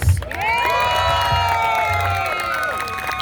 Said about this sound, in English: So keep that applause going.